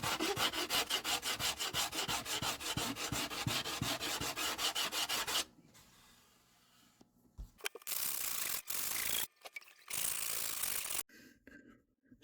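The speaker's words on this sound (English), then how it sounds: "Now I'm just going to give it a sanding with some 80 grit on a piece of glass." Up close, 80 grit sandpaper rubs against a flat piece of glass during a parlor guitar repair in quick, rhythmic back-and-forth strokes, then gives way to scattered short scraping bursts separated by near-silent pauses.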